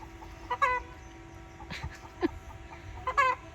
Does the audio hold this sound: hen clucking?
yes